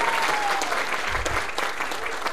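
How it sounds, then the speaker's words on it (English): Audience applause at a live speaking event, steady dense clapping from a crowd filling the whole stretch, fairly loud and continuous without voices on top. "Can we have a huge round of applause?"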